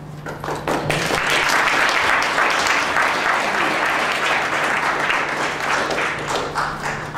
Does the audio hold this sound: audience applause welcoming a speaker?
yes